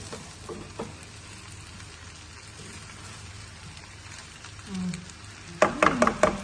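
Rice with chicken, eggs and vegetables fries in a pan with a soft, steady sizzle, then utensils scrape and clatter loudly against the pan near the end.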